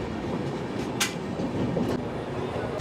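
Passenger train rumbling steadily at Bagdogra railway station in North Bengal, running slightly late, with a continuous low wheel roar and a couple of brief sharp hissing bursts over it; no voices.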